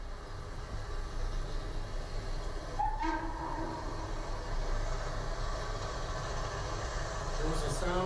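Northbound 1980s train passing Lexington on its way to Roanoke, a steady low rumble of rolling stock with a brief whistle or horn tone near the middle, moderately distant.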